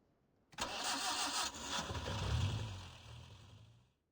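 A car engine in the video game Reverse: 1999 cranks and catches abruptly, then settles into a steady mid-pitched run that slowly fades out, heard clearly on its own.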